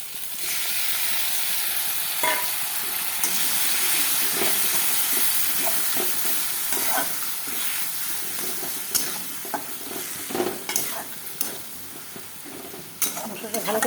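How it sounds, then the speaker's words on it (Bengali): Spices frying and sizzling in a pan with fried onions while a spoon stirs and scrapes through them, a steady close hiss broken by irregular clinks and scrapes, with no talking. "মশলাটা ভালো করে কষাবো।"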